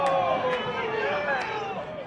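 Home baseball crowd at a Roseburg game, a steady murmur of many voices rising into a continuous disapproving reaction after a called strike two, broad and fairly close, with a few brief sharper accents.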